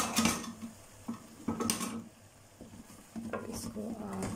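Puree stirred into fried masala in a pan for chicken kofta curry: a spoon scrapes and clinks against the pan in uneven strokes over a soft, steady sizzle, close and moderately loud, with no talking.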